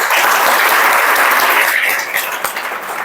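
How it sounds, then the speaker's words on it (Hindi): Loud, dense applause from a school audience, steady for about two seconds and then thinning and fading toward the end. "उनके लिए एक बार तालियां हो जाए जोरदार"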